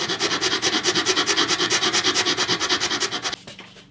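A wooden bridge for a 50-year-old acoustic guitar being sanded and shaped by hand, close rhythmic back-and-forth rasping strokes at a steady quick pace, stopping abruptly near the end.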